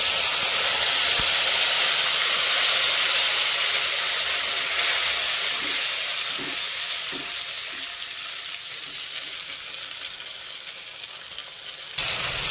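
Ground spice paste dropped into hot tempered oil for a kankrol kalia curry gives a loud, steady sizzle and hiss that slowly fades over about twelve seconds, with faint stirring.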